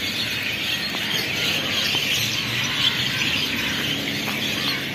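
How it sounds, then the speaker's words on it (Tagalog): Birds chirp and squeal steadily at nightfall, a dense, continuous chorus of high calls with no voices. "Ang ingay ng mga ibon."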